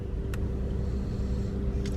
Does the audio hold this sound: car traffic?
yes